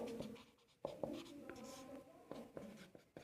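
Marker or chalk writing on a board in a classroom lesson, a series of close scratchy strokes with sharp taps at each new word, continuous for a few seconds.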